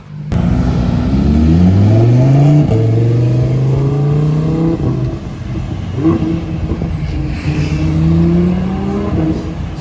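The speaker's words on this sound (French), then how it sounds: "Beau rétrogradage. On entend bien le V10." A loud, close Lamborghini Huracán V10 engine revs and drops through gears on a Geneva street, its rumbling pitch stepping down in a few quick downshifts, with no talking.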